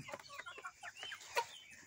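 Backyard chickens, including a rooster named Winston, give soft quick clucks and throaty calls in a short faint burst, fairly close with no talk over it.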